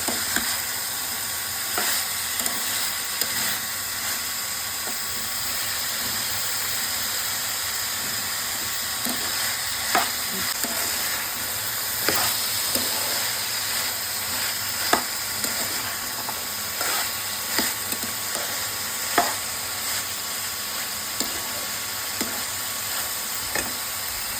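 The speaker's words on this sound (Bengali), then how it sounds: "মশলাটা দিয়ে ডাঁটাটা খুব সুন্দরভাবে কষিয়ে নেব" Vegetable stems are sautéed with spices in a pan, a long steady sizzle with repeated clicks and scrapes of a spatula stirring at irregular intervals.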